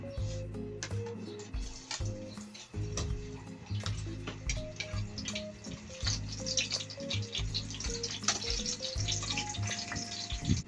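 Garlic frying in hot oil for Filipino dinuguan gives a faint, crackling sizzle with small ticking pops, over a gentle background music bed.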